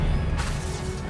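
Disarming Expelliarmus spell from Hogwarts Legacy, heard as a dense, continuous magical rush with a soft swish surge partway through, filling the whole moment without speech.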